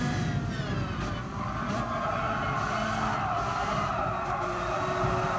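Racing kart engine in Gran Turismo Sport buzzing steadily at high revs through gear changes on an Eifel kart race, with brief tire skid squeals mixed in, continuous and fairly faint with no talk.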